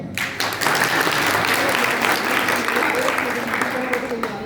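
Audience applause at a public awareness speech, a dense steady wash of clapping that holds loud and close for the whole stretch with no break.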